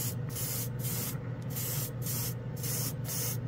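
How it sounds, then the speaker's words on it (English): A can of Revell Chrome spray paint fires in a rhythm of short bursts, about six close hissing sprays separated by brief pauses, with a faint background hum and no talking. "Revell Chrome from the spray can that I recently tested and liked"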